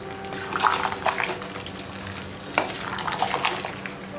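Canned coconut milk is stirred into a large pot of chicken curry, giving soft wet scraping and swishing strokes that rise and fall with a faint sizzle beneath, close by and without talk.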